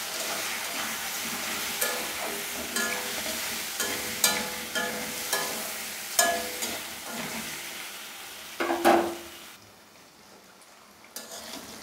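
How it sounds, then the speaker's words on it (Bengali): Raw green banana and potato pieces fry in oil in a pan for a hilsa curry, a steady sizzle broken by repeated metallic scrapes and clinks of a spatula stirring, close and alone. "আমার কাঁচকলা আলুটা সুন্দর মতো লাল লাল করে ভাজা হয়ে গেছে।"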